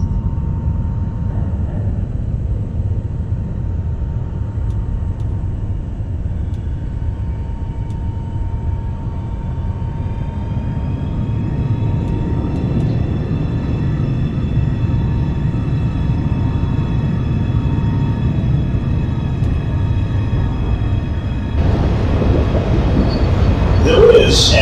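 A subway train arrives at the 42 Street-Bryant Park station in the OpenBVE train simulator. A steady, heavy rumble carries a rising electric whine, and the noise swells louder toward the end as the train comes close.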